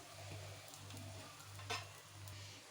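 A bread omelette frying in a hot pan gives a soft, steady sizzle with a low hum underneath and one brief utensil clink, faint and close.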